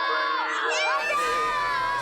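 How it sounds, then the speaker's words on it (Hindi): Shrill, wavering high-pitched screams from children ring out in layered overlapping cries, loud and close, as if several voices shriek together, continuing through the whole clip. "तुमने सुना वो एक बच्चे की चीखने की आवाज सुना?"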